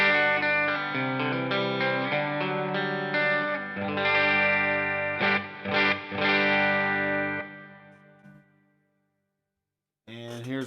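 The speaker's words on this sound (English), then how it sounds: "here's a reverb sound from the gig board" An electric guitar runs through a reverb patch on a Quilter Toneblock 202 gig board, sustained chords ringing out loud and then decaying in a long wash of reverb tail before a fresh strum cuts in near the end.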